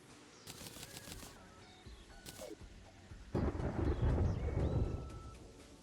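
A thunderstorm in the game Terraria rumbles, with a low roll of thunder building near the end over a bed of rain and a few bird-like chirps earlier, moderately faint overall.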